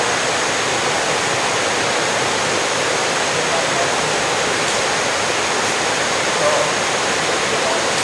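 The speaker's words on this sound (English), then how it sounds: "it's got lots of running water on it. Little waterfalls and cascades" River with small waterfalls and cascades on land near Dominical, Costa Rica, producing a loud, continuous, even rush of running water close by with no breaks.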